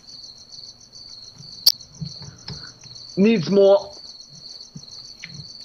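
Crickets chirping in the zombie survival game The War Z, a steady rhythmic trill throughout, broken by a sharp click and a few soft thuds, with a man's brief speech over it midway.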